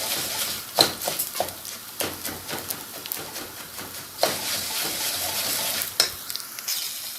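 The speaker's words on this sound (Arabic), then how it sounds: "وانا بقلب في الرز وهي بتجفف" Rice frying in a pot is stirred with a spoon, giving a soft continuous sizzle broken by irregular scraping and knocking strokes against the metal, heard close up.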